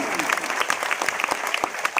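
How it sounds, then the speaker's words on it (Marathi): Loud, dense clapping from a crowd at a felicitation ceremony honouring a retired soldier, a steady wash of many hands with scattered sharper claps throughout, no talk over it. "एक जोरदार टाळ्या संयोजकाला आणि संयोजकाला मदत करणाऱ्यांना"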